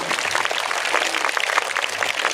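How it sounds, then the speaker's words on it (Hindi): Audience at a school annual function clapping for a young student, dense steady applause from many hands close by. "जोरदार ताली इस बच्ची के लिए।"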